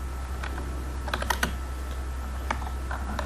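Light, quick keystrokes on a computer keyboard, tapping in irregular clusters close by over a low steady electrical hum, with no speech.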